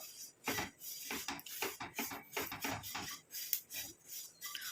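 Curry leaves being fried in a pan for a homemade hair dye give off a scraping, rustling clatter of stirring and sizzling in irregular bursts, close and fairly quiet, with no talking.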